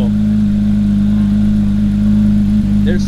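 A supercar with a matte black hood and yellow calipers holds a loud, steady mid-pitched engine drone at close range, dipping briefly before the end.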